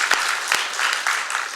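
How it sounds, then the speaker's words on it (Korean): A church congregation at a Sunday service gives congratulatory applause for a wedding. Close, lively clapping comes in a brief burst, with a few sharper individual claps standing out. "우리 축하하고 감사하는 박수 하겠습니다"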